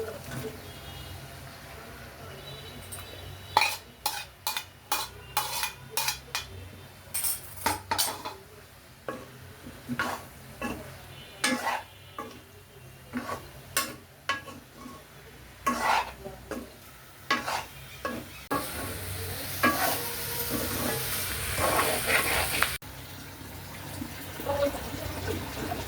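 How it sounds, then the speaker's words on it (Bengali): Vegetables stirred into a spiced masala in a pan, with repeated sharp scraping and clanking strokes of a spatula over a low sizzle and a burst of louder hissing near the end. "এখন আমি সবজিগুলো অ্যাড করে দিচ্ছি।"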